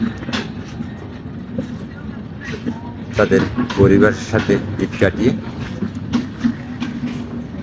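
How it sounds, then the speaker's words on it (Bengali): A moving train travelling from Dhaka to Panchagarh gives off a continuous low rumble and rattle, with people talking nearby over the running noise. "আর ট্রেনটি ঢাকা থেকে ছেড়ে আসছে পঞ্চগড় যাবে"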